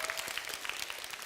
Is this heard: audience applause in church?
yes